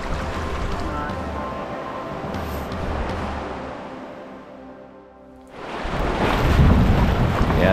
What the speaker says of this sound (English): that's the sound of big thunder